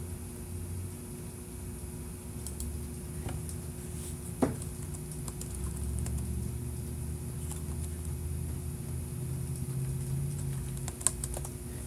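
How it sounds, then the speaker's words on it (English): A computer keyboard being typed on at a steady, fairly quiet pace, with light clicking keystrokes and a couple of sharper taps over a low background hum, no talking. "Let me see if I type that in."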